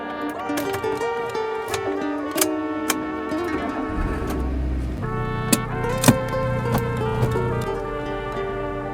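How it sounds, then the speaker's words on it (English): Getting into and driving a 21-year-old 2005 Maruti Swift, with clicks and clunks of doors and controls followed by a steady engine hum and tonal whine inside the cabin, no talk. "let's get inside the car, and let me drive you around"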